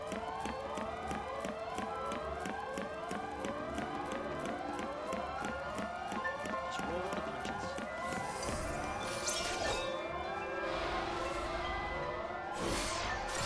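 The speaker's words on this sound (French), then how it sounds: "La sirène." Rising and falling siren wails repeat steadily in Final Fantasy XIII, layered warbling tones cycling every second or so at moderate level, with some clattering noise building toward the end.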